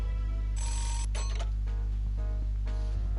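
A telephone rings in the video game Nights of Azure, sounding in a couple of bright, trilling bursts with short gaps over a steady low game hum, with no voices.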